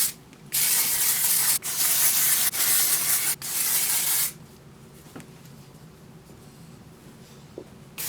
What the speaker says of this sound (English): Dry shampoo.